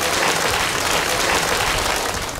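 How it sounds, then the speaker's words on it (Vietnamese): Listeners at a Buddhist nun's dharma talk in Vietnam give a round of applause, a loud, dense and continuous clatter of many hands close by that barely tapers over two and a half seconds. "chúng ta hãy cho một tràng pháo tay tán thán cùng đức"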